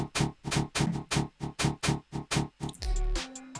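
Dry tearout bass synth patch with its effects turned down plays a loud, even run of about nine short growling stabs, then a longer sustained tone with a sliding pitch at the end.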